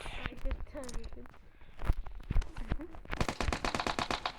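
M4 rifle fire in a video game: several rapid bursts of sharp, close shots, densest near the end, with brief game voice sounds and other effects mixed in.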